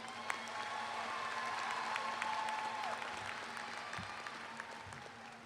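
Audience applause from a seated crowd at a talk, a continuous wash of many hands clapping at moderate level with faint cheers, steady throughout before tapering a little at the end.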